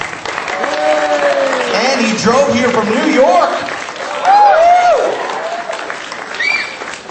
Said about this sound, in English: Can we give this guy a round of applause?